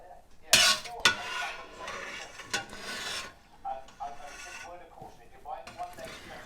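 A spoon scrapes and clinks against a pot of slowly heating goat's milk curds and whey, giving soft rasping strokes and occasional metallic knocks as a person talks nearby.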